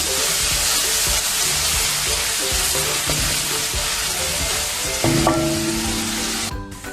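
Chopped garlic and a small piece of ginger fry in coconut oil for a restaurant-style chicken curry, a loud dense sizzle with steady stirring scrapes, and a brief brighter burst of frying near the end, close up without voices.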